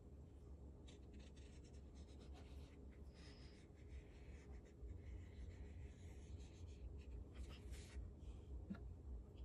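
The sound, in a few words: drawing a mouth on a paper plate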